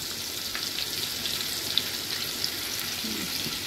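Asafoetida sizzling in melted butter in a pan while making egg bhurji, a steady, close frying hiss with faint pops throughout.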